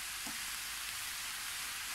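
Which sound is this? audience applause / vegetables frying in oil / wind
vegetables frying in oil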